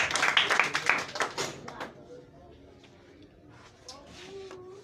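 Church congregation clapping in a burst of close, rapid applause that fades out within two seconds, followed by quiet murmuring voices.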